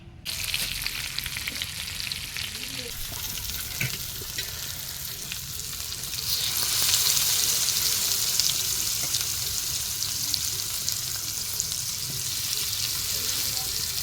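Fish fries in a pan, a steady loud hiss of bubbling oil that swells and grows more intense midway, close up and continuous, with no talk over it.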